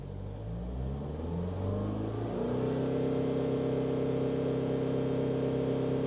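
Petrol engine of a BMW 1 Series revved in place, rising steadily in pitch then holding at a high, even drone, close and continuous with no voices.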